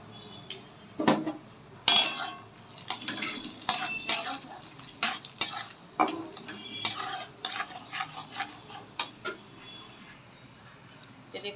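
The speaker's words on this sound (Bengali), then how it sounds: "এখন আগে ফার্স্ট আমি কাজুটা ভাজবো।" Cashew nuts frying in a pan, with a spatula scraping and clattering against the metal in quick irregular strokes over a faint sizzle, close by, with no talking.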